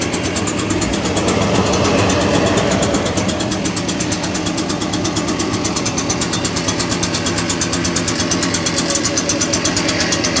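A brand-new Echo PB-580T backpack blower's engine runs steadily just after a cold start, a loud, close, continuous buzzing drone with a fast, even pulse throughout and no talking.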